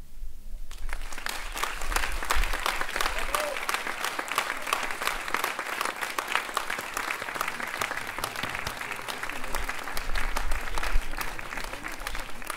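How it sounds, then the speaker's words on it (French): An audience at a school choir concert applauds a college class with sustained, dense clapping that rises quickly and stays loud and even, a warm crowd ovation with no speech over it. "vous pouvez applaudir cette classe"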